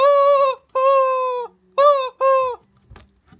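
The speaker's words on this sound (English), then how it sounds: "we got different varieties of the annoying chicken here" Four loud, tonal squawking calls from a chicken, drawn-out and close, followed by a few faint clicks.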